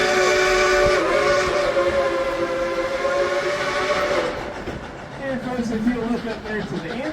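Dollywood Express steam locomotive engine number 70 sounds a long, loud steam whistle while running, the sustained tone cutting off midway before a lower whistle note follows over the rumble of rolling cars.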